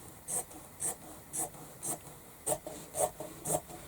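Scissors cutting fabric around a sewing pattern for a small sewing pouch, leaving a margin, with about eight regular crisp snips close by, evenly spaced and moderately quiet, no speech.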